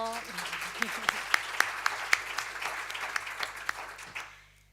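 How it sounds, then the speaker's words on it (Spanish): Applause from an audience at an event honouring women of the sea, a thin steady patter of clapping with a few sharper individual claps on top, fairly quiet and fading out at the end. "Pues un aplauso."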